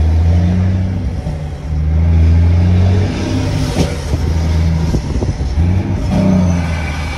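A Volvo FH truck engine revs hard and steadily while building air pressure, its deep, loud drone rising and falling in a sustained, close growl with no talking over it.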